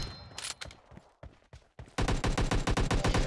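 Kar98k bolt-action rifle shots in PUBG Mobile Lite, several sharp separate cracks at first, then a dense rapid burst of gunfire that stays loud to the end.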